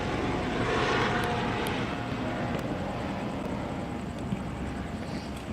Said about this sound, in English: There goes the chopper again.